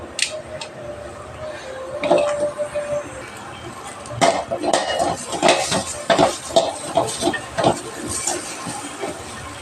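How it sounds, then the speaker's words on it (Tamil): Radish is dry-sautéed without oil in a pan for fish sambar, giving steady clatter and scraping of a spoon against cookware with a faint sizzle. The stirring comes in repeated strokes that get busier toward the end. "அதுக்குள்ளே இந்த காயை நம்ம வதக்கிக்கலாம்"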